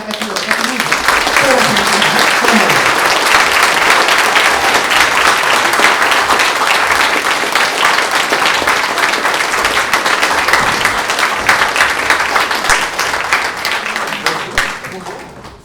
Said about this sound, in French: si vous pouvez faire un tonnerre d'applaudissements